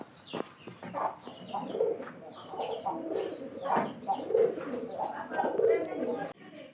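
A pigeon coos close by in repeated soft, throaty phrases with a steady rhythm that continues across the whole stretch with little pause.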